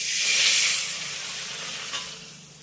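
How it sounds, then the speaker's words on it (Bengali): A small glass of water hits fried moong dal in a hot pan and bursts into a loud, broad sizzling hiss that peaks at once, then settles into a steadier, fading steam hiss. "আর এবার আমি ভাজা মুগ ডালের ভিতরে দিয়ে দেবো এই ছোট গ্লাসের 1 গ্লাস জল"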